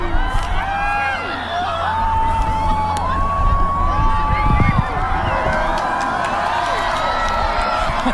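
Large outdoor crowd at Marcy Field in Keene erupts as the moon fully covers the sun during a solar eclipse, a loud sustained swell of cheering, whoops and shouts with many voices overlapping throughout.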